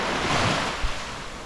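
Surf washes onto Angol Beach on Boracay Island, a brief steady rush of breaking waves mixed with wind noise on the microphone, with no voices.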